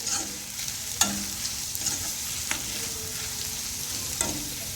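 Chopped onions fry in a pan for Jodhpuri pyaz kachori filling, a steady close sizzle with a few sharp scrapes of a spoon stirring, and no one speaking.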